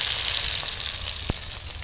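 Tomato and salt frying in oil for an aloo chop filling, a bright, steady sizzle with one sharp tap of a spoon against the pan, no talk.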